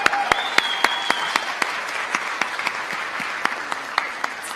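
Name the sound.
audience applause at awards show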